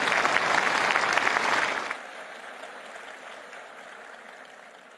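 An audience at the Bharat Tex 2025 textile expo applauds in a loud, dense burst of clapping that stops abruptly after about two seconds, leaving a quiet hall.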